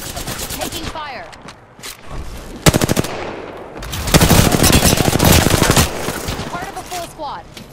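Automatic gunfire in the battle-royale shooter Apex Legends, bursts of rapid shots sounding loud and close in two main volleys, with short gaps between them and game voice callouts mixed in.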